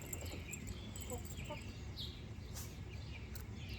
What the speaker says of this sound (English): these are egg-laying hens, not meat birds.